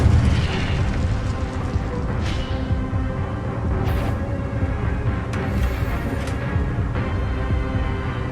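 Incendio fire spell cast repeatedly in Hogwarts Legacy, a loud, dense roar of fiery bursts and booming blasts sustained throughout with no pauses.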